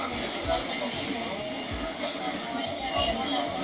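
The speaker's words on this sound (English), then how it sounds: "Layered with a subway from when I was in New York." A New York subway train, with squealing wheels and rumbling rail noise, layered into a music production; a steady, close roar with a thin high squeal running through it.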